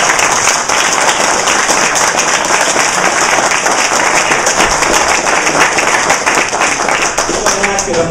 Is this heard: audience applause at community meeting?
yes